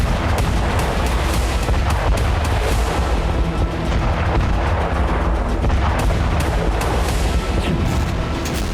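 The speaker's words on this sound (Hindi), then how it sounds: "कुपियांस्क में रूस ग्लाइड बम से हमले कर रहा है।" Russian glide bomb attacks strike Kupiansk, a loud, dense run of repeated booms and thuds over a heavy, continuous rumble, with no speech heard.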